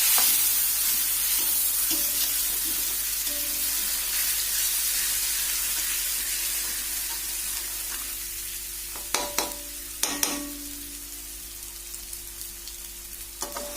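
Cooked spice paste frying in a pan, a continuous close sizzle that hisses and fades, then a few sharp clatters and bursts as water is poured in, with no talking.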